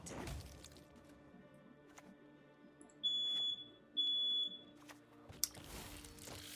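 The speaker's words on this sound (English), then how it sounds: "Just a battery beep." Two short, identical electronic chirps from a smoke detector signalling a low battery, about a second apart, standing out over a quiet room background.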